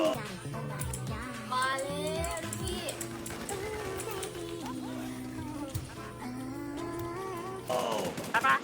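Rapid gunfire from a multiplayer video game rattles through the whole stretch, mostly buried under constant, excited male chatter and laughter, with a sharper louder burst near the end.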